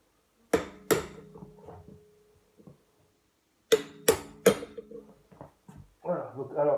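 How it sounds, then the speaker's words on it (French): A hammer taps the end of a key set against a scooter's variator clutch, giving a few sharp metallic knocks in two bursts with pauses between, and speech starting near the end. "vous prenez un marteau et vous tapez"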